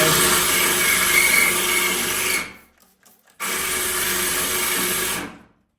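A power drill whines steadily through shower tile for a couple of seconds, stops briefly, then runs again at an even pitch before cutting off.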